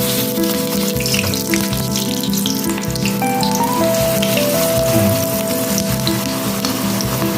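Eggplant fries in a pan, two large pieces at a time, giving a loud, steady sizzle and crackle that runs continuously without pause.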